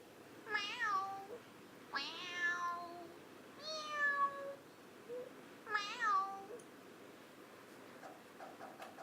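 A cat meows four times in a slow, evenly spaced series, each call clear and fairly close against a quiet background with no talk.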